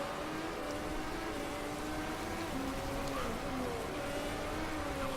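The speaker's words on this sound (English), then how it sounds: "And here comes the rain." Rain falls steadily across a racing track in the Motorsport Manager game, a constant hiss beneath the drone of race car engines whose pitch rises and falls as they pass.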